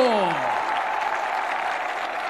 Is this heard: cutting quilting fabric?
no